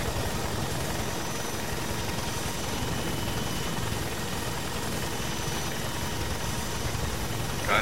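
A helicopter engine idles in a military video game, a steady low rumble and whine that holds at an even level throughout with no talking.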